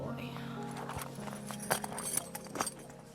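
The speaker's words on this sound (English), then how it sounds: "She is preparing her horse for the family walk." A few faint, scattered hoof knocks from a horse being readied for a family walk at a rural home, sounding quiet and uneven amid low background murmur and hum.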